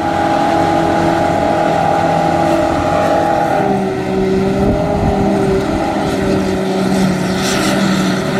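A New Holland T7.200 tractor pulls Heron silage trailers with a loud, close, steady engine drone, its pitch shifting midway, under constant mechanical and field noise during silage work.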